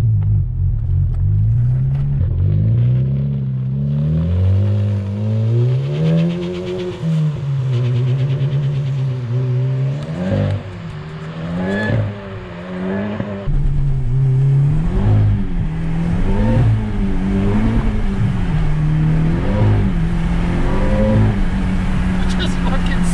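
Exhaust of a 2018 Honda Civic Type R rumbles loudly up close as the engine is revved repeatedly in snowy weather, rising and falling in steady swells, with people talking over it.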